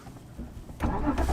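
A BMW E46 M3 with SMG gearbox, high mileage, fires up from neutral: a brief quiet lead-in, then the engine catches with a sudden loud burst and settles into a rough idle, heard close.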